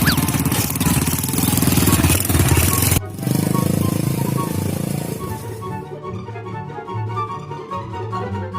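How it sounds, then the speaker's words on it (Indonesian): A motorcycle engine runs loud and close, a steady, dense mechanical drone that drops in intensity partway through and settles into a thinner running tone toward the end. "Ieu motor hirup."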